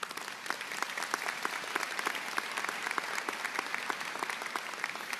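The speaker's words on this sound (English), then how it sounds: "let's thank and applaud for our teachers" Steady, sustained clapping from a large graduation audience honoring teachers, staff and families, with sharp individual claps audible within the continuous wash of applause.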